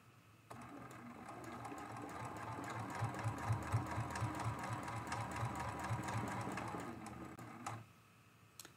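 Sewing machine stitching steadily through a free-motion quilted mug rug, a fast even needle rhythm running close and continuous for about seven seconds, starting and stopping abruptly with no voices.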